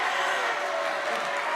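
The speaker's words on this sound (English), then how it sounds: "A round of applause." A brief burst of crowd applause at a darts match between Marcus Mathers and Andy Brown, a dense, even wash of clapping from a large audience, moderately loud, with no clear voices on top.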